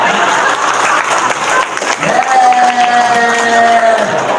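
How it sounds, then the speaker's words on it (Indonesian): Audience applause breaks out at a talk about marriage, a brisk wash of many hands clapping with a voice calling out and a tonal sweep over the claps before it tapers off. "Tepuk tangan dong."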